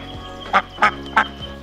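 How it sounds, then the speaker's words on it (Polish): A duck on a road in Turkey gives three quick, loud, nasal calls in a row against faint background hum. "Wyszła nam kaczka na drogę."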